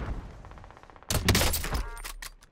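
Welgun submachine gun fire in Warzone on Rebirth Island, a sudden burst of rapid automatic shots that starts loud and close after a quieter lead-in, then tapers off into scattered cracks.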